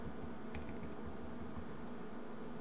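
Someone types a short name on a computer keyboard, a quick run of light key clicks in a brief rhythmic burst over a quiet room hum, with no talk.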